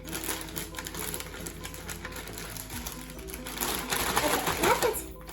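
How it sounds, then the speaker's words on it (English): A Ziploc bag of dry flour mixture for fried chicken is shaken hard. It gives a steady rustling, rattling churn that builds louder near the end, with a voice talking over it. "you can shake it all up, just like this, and get all your aggression out"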